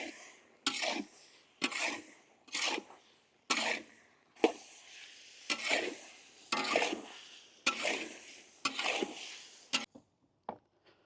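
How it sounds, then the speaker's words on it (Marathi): Spices such as turmeric, Kashmiri red chilli powder, chicken masala, coriander powder and garam masala sautéed in a pan for suran (elephant foot yam) bhaji: a series of about ten rhythmic scraping stir strokes, each sizzling briefly, close and moderately loud. "आपण आता मसाले व्यवस्थित परतून घेऊ"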